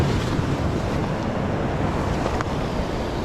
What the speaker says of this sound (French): avant que la vague arrive